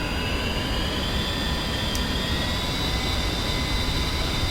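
A-10C Warthog's twin jet engines spool up in the DCS World flight sim, a steady loud turbine roar with a rising high-pitched whine running throughout, no voices.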